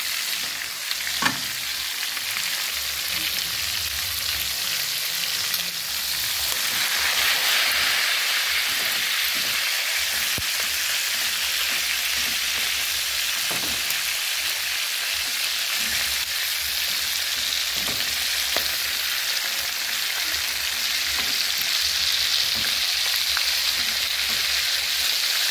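Fish frying in a home kitchen pan for lunch, a steady loud sizzle and crackle running the whole time with occasional sharper pops and stirring clatter, no voices.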